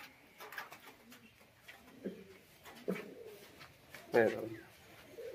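Pigeons coo softly in a loft at feeding time in short, separate bursts, with bird calls and faint rustling between them; speech is also present.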